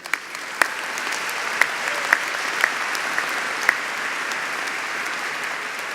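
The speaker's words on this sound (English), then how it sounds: "A round of applause, please." Steady applause from a commencement audience at a 2019 Hobart and William Smith Colleges graduation ceremony, a continuous wash of clapping with a few sharper individual claps standing out, sustained evenly throughout.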